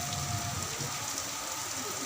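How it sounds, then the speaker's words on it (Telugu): Heavy rain pours at the hilltop Navatirtha Anjaneya Swamy temple, a dense, even hiss of drops striking surfaces nearby, steady and unbroken with no voices. "ఫుల్ వర్షం"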